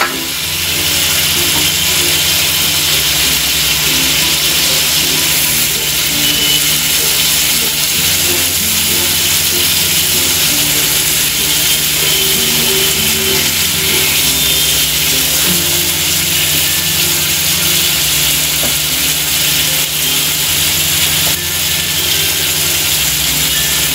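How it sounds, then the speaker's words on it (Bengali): Pabda fish sizzling as it fries in a pan for a Bengali fish jhol, a steady, loud broadband hiss of hot oil running without a break, with a low hum underneath. "এটা একটু ভাজা ভাজা হলে এখন আমি মাছগুলো দিয়ে দিব, সে ভাজা মাছটা"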